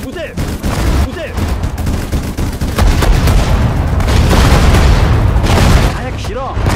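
Gunfire and explosions in the Sudden Strike 4 Pacific War Japanese campaign: dense overlapping rifle and machine-gun bursts with heavy booms, loud and continuous, under voiced unit commands.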